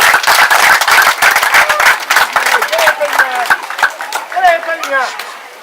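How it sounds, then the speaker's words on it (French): Applause from the crowd at a school key handover ceremony in the village of Lamékaha, sharp irregular claps close by with voices talking and calling out over them, thinning toward the end. "Il faut applaudir."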